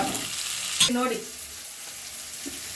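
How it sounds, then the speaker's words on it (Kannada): Masala added to a sizzling pan for itkad bele saaru, with a constant frying hiss, a brief clatter and spoon scrape as it goes in, then a quieter steady sizzle. "ಮಸಾಲೆ ಹಾಕ್ತಾ ಇದ್ದೀನಿ"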